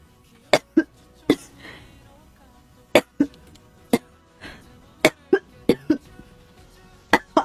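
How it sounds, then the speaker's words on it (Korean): A girl coughs repeatedly in sharp, close bursts, about a dozen spaced irregularly with quiet gaps between them and no talking over them. "나 기침 왜 이렇게 나오냐"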